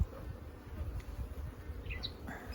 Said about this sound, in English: Like I got a bee in my suit already.